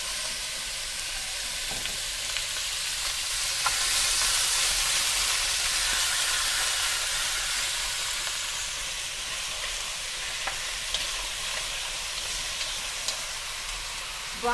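Pork browns in a generous amount of oil with ginger in a small pan, giving a steady, close, broadband sizzle that holds for the whole stretch with light crackles and no talking.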